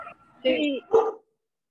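Dogs barking outside the house, two short yips heard at a distance.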